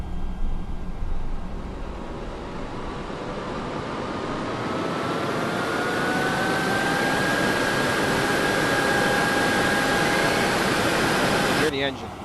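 An Airbus A321neo in the FSLabs flight simulator, Jetstar livery, runs its APU and engines with a steady, loud turbine roar and a slowly rising whine that holds through the clip, then cuts off abruptly at the end.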